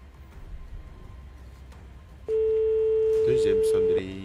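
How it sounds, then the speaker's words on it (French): A telephone rings out during a live televised prize draw call, one long steady tone starting partway through and holding loudly for nearly two seconds over a low background murmur. "Première sonnerie."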